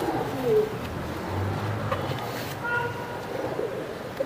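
Racing pigeons cooing nearby in soft, repeated low coos, with someone talking over them throughout and other bird sounds in the background.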